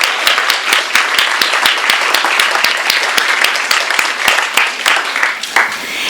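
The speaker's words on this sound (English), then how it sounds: "Let's clap for him." An audience applauds to welcome a speaker at a book event, with crisp individual claps standing out within steady, fairly close clapping that fades slightly near the end.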